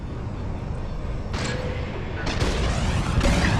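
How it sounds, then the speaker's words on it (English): Bombs explode in a Star Wars: Squadrons space battle, a steady rumbling bed broken by a burst near 1.3 seconds and heavier blasts from about 2.3 seconds on, each sharp onset trailing into a roar. "On my mark. It's bombs away."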